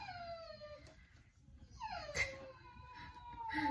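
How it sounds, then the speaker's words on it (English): A Basset Hound whines and howls in drawn-out, wavering cries that rise and fall, fairly close, with quiet household background and no talking. "Basset Hounds are very vocal."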